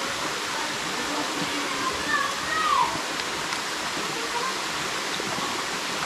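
Steady broadband rush of a waterfall at a swimming spot, continuous and fairly loud throughout, with faint voices and a brief whistle-like sound partway through.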